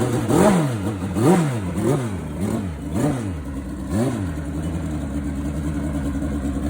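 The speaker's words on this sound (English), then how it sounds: "we're going to take you to Mark Chisolm and his turbocharged Kawasaki KZ" Turbocharged Kawasaki KZ drag bike engine blipped repeatedly, about six sharp rev rises and falls in quick rhythm before settling into a rough steady idle, loud and close.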